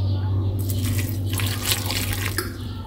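A little water pours into a cooking dish, a short steady splashing trickle close by over a low background hum.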